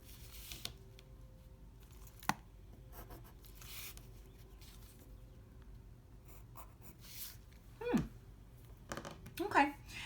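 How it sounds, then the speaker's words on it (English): A pencil drags along a ruler on paper in faint, soft strokes, with scattered light scratches and taps over a quiet room hum, plus a few louder scrapes near the end. "I'm going to take my little ruler and I'm going to connect these"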